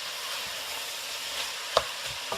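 Onions frying in butter in a pan for onion soup, a steady soft sizzle with a few light stirring scrapes and one sharper utensil clink near the end.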